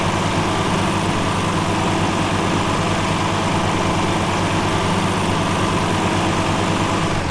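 Tractor engine idling in a farming simulation game, a loud, steady low diesel drone with a dense rumbling texture and no pauses, running alone without any talk.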